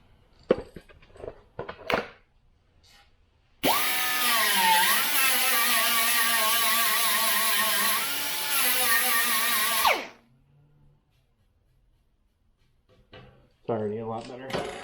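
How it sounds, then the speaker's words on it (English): A power grinder smoothing a welded patch on a Chevy panel truck fender runs in one steady, loud whirring pass of about six seconds, with speech before it and after it. "I'm actually going to grind that down real quick"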